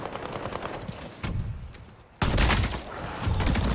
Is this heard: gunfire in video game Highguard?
yes